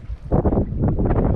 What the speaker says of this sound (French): Les éoliennes tournent, il y a du vent.